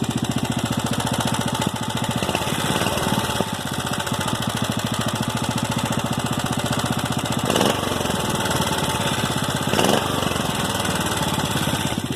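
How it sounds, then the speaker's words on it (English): A Briggs & Stratton big-block small engine fitted with a 6.5hp carburetor runs loud and close with the choke off, its rough chugging broken by a few sharp pops and sputters. "Backfiring a lot."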